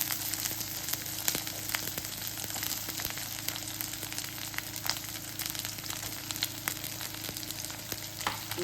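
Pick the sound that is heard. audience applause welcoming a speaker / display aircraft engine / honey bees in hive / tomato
tomato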